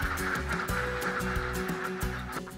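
Ducks raised on a farm in Sidrap, Indonesia, quacking and honking as a flock in a steady, busy chorus that fills the whole moment, loud and close with no talk over it.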